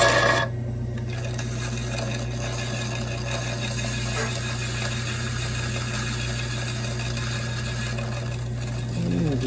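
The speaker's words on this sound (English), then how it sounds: "maybe I can use this rib tool" A rib tool scrapes and cuts an undercut into clay spinning on a pottery wheel, giving a steady close rasping drone over the wheel's constant low hum for the whole stretch.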